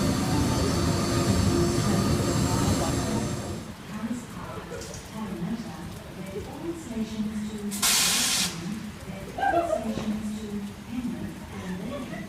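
An electric Sydney Trains passenger train rumbles past a station platform with hissing and clattering that fades after a few seconds, followed by a short burst of air and quieter station noise with someone talking.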